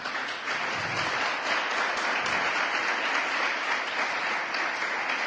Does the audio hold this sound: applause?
yes